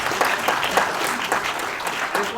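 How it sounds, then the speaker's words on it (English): Audience applause in a session hall, steady dense clapping for the whole stretch, close and fairly loud, with no voices over it. "you can clap if you like"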